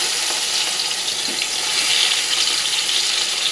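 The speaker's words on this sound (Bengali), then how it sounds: "এই মাংসগুলো এবার এক এক করে আমি এমনি তেলের মধ্যে ছেড়ে দেবো" Marinated chicken pieces fry in hot mustard oil, giving a loud, bright, continuous sizzle with a steady crackle and no talking.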